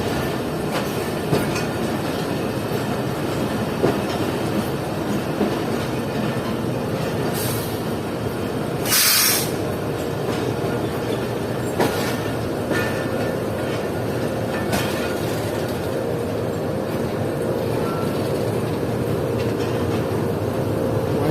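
Container train on a Pakistan Railways main line, hauled by a GU40 locomotive, rolling steadily past at slowing speed, with continuous rumbling wheels on rails, a few sharp squeals and clanks, and a brief loud burst midway.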